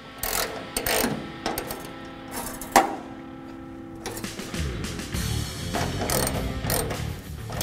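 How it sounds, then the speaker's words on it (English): A ratchet wrench loosening a fuel line bracket on a 1965 Mustang, with bursts of quick close clicking, a sharp metallic clank midway, and further ratcheting strokes afterward. "Now we'll loosen up our fuel line bracket so we can install the brake line in it."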